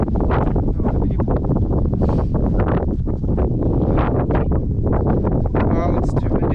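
Strong wind roars steadily across the microphone, a loud continuous buffeting rumble with gusting bursts throughout.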